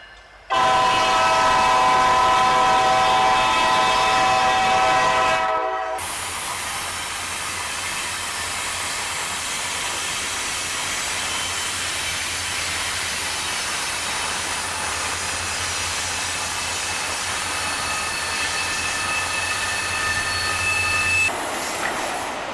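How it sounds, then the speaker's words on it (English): Train passing through the Hoosac Tunnel: a loud horn blast opens, then a long, steady roar of rail cars rolling past with sustained metallic squeal tones, ending abruptly as the passage fades. "And a train went by"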